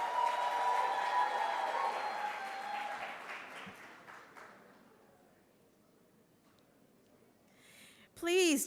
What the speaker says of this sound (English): Next, some round of applause for the Water Resources Authority.